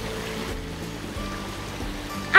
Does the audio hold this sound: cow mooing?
no